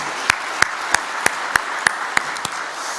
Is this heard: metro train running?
no